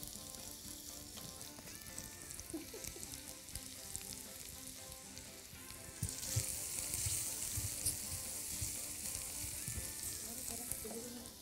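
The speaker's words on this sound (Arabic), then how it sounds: "هنبتدي الاول بالبصل في شويه زيت" Onions fry in a little oil, giving a quiet, continuous sizzle that grows louder and crackles more partway through, with occasional clinks and stirring.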